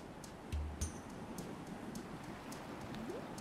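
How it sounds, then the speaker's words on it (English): Rain falling on a miasma-laden marsh in Final Fantasy Crystal Chronicles, a soft steady hiss with scattered drip-like ticks and a couple of brief low thuds, fairly quiet. "The rain that falls here is thick with miasma, much to the chagrin of prospective intruders."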